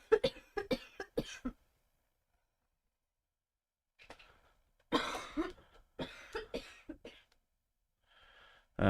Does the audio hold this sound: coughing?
yes